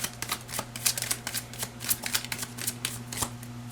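Animal spirit oracle cards being shuffled in a steady run of crisp riffling flicks and soft slaps, close and continuous against a low steady hum, with no talking.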